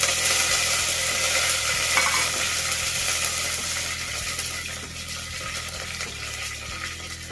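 Mustard seeds, cumin and curry leaves sizzle and crackle in hot oil, a steady close frying hiss with faint stirring and no voices.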